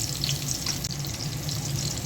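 Chopped onion and tomato frying together in hot oil in a pan, a steady, dense sizzle that holds unbroken at close range with no voices.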